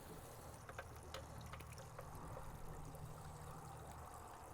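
A quiet, steady trickle of water drains from the bottom plug of a swimming pool pump, a soft continuous wash over a low hum, with no talking.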